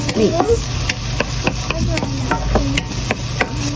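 Garlic and black pepper being mixed in a pan for a tuna sardine cheesy carbonara, with repeated short scraping and tapping stir strokes over a low steady hum, close and moderately loud.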